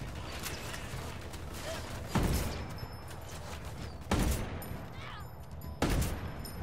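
Gunfire in the tactical shooter Ghost Recon: Wildlands, with three sharp, loud shots spaced about two seconds apart over steady background game ambience.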